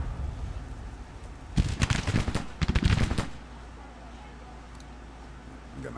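Artillery pieces firing in the Civil War strategy game Grand Tactician, guns brought in close: two dense bursts of booming, overlapping shots, each roughly a second long, rising over a low rumble of battle ambience with quiet stretches before and after.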